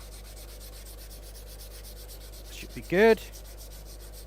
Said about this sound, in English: So let's just try to do this a little bit by hand sanding.